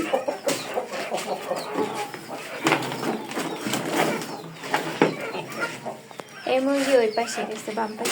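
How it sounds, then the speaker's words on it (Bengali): Chickens cluck close by, with a rooster among them, mixed with people talking; the clucks come in irregular bursts, clearest near the end. "এটা হচ্ছে আমার কক মুরগি"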